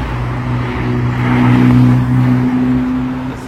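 A red Ferrari SF90 Spider drives past quickly on a Paris street, its engine note rising to a loud peak as it nears and then fading slightly as it moves away.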